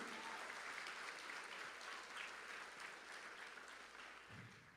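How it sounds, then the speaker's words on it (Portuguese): A church congregation applauds during a sermon, giving a steady, even wash of clapping. It is quite faint and distant and thins slightly toward the end. "É para aplaudir a Jesus."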